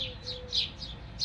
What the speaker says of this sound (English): I do like having the birds going because it's almost like having a